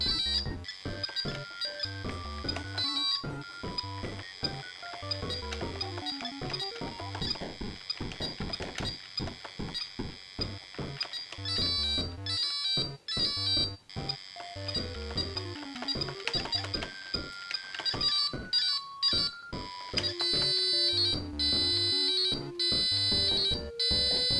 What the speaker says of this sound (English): when you win or lose, it just incessantly beeps at you